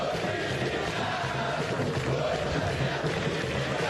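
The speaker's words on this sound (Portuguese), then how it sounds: "O repertório da torcida do Corinthians nesse segundo tempo me parece ser muito mais exposto aí no estádio" Corinthians supporters fill a stadium with a dense, continuous roar of massed chanting during a Copa do Brasil 2014 match against Bahia de Feira, holding a constant level from start to end.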